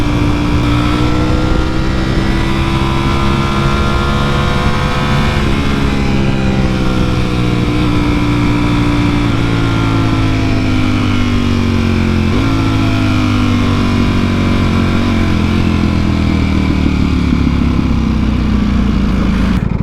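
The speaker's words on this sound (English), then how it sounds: "That was a fun Lamborghini right there." A Lamborghini Aventador engine roars loud and close, holding a sustained high-revving howl whose pitch climbs through several gear changes as the car accelerates, with no voices over it.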